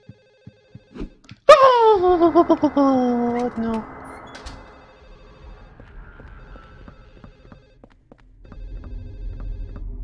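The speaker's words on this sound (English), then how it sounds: "I bet there's a phone ringing somewhere." An old-fashioned telephone bell rings in a run of sharp metallic trills in Silent Hill 4: The Room, loud at first and then decaying, with a single brief spoken word near the end.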